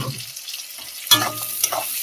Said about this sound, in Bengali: পেঁয়াজটা ভালো করে ভেজে নেবো লাল লাল করে।